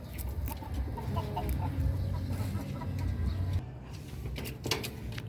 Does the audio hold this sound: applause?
no